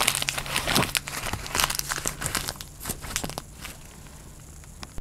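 A sheet of paper is crumpled and torn by hand, with close crinkling and crackling bursts over several seconds that taper to a quieter rustle.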